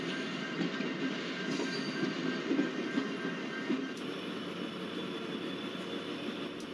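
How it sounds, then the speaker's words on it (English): Express train of Utkrisht coaches with a WDP4D diesel locomotive passing in the MSTS train simulator game on the Mewar route, a steady close rumble and rail noise throughout with faint clickety-clack. "We can see that 20901 express train, which is full of Utkrish coaches."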